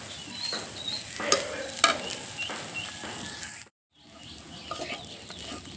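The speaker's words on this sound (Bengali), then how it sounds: "এইভাবে একটু এই যে নেড়েচেড়ে আমি পেঁয়াজটা ভাজা করে নিব" Onions fry in oil in a pan for a Bengali chanda fish dish, a close, steady sizzle with scraping stir strokes and a brief silent gap partway through.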